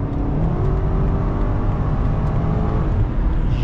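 Stage 2 tuned BMW X5M with a downpipe tune accelerating hard, a loud, close, continuous engine roar that climbs steadily without any pause.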